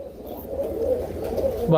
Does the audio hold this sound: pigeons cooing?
yes